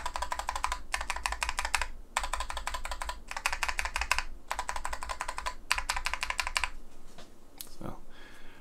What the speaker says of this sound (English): So there's your sound test for an acrylic sandwich style board.